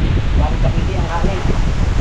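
Strong, steady wind buffeting the microphone with a constant low roar and rumble throughout.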